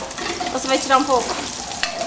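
Oil frying and sizzling in a pan while cassava soup is cooked in a home kitchen, a steady crackling hiss with stirring, and a short spoken question briefly heard over it.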